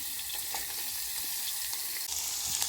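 Jaggery is tossed into a hot pan with fresh cashews and coconut for a Konkani dish, giving a steady close sizzle with light scraping and stirring clicks.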